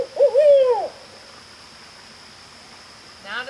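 Barn owl call: a harsh, raspy screech of about a second at the start, then quiet, then the start of a second call at the end.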